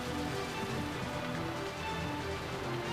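Rain falls in Final Fantasy 12: The Zodiac Age, a continuous, even wash of hissing patter throughout, fairly loud and unbroken by speech.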